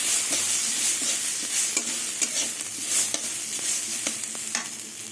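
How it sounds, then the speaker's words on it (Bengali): Gobindobhog rice frying lightly in ghee in a pan, stirred continuously with a steady sizzle and repeated scraping strokes of the spoon, close and moderately loud with no talking. "ঘিয়ে চাল ভাজা হয়ে গেছে"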